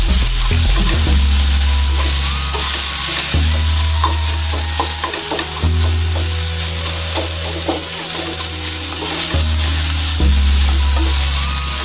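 Mutton stuffing mixture is stirred in a hot pan, with a continuous sizzle under repeated scraping and turning strokes of a spoon, close and loud, with no voices.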